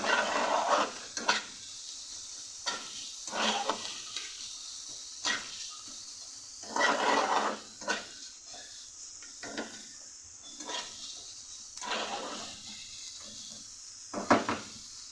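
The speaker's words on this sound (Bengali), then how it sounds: "আমার কাটা ছাড়িয়ে রাখা মাছগুলোকে। একসাথে ভালো করে ফ্রাই করে নেব।" Small fish pieces fry in a pan with onion, garlic and green chili, giving a soft steady sizzle broken by repeated scraping stirs of a spatula every second or two.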